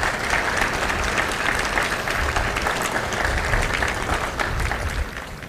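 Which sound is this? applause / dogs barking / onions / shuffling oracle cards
applause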